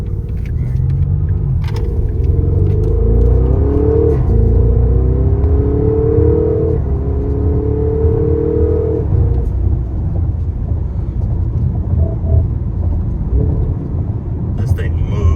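A Porsche tuned with a downpipe and charge pipe accelerates hard, its deep engine rumble rising through several gear pulls with rising pitch sweeps, loud and close inside the car.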